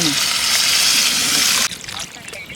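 Water pours steadily into a pot of chicken curry cooking outdoors in a forest, with a broad rushing splash, then cuts off abruptly, leaving quieter dribbles and faint background noise.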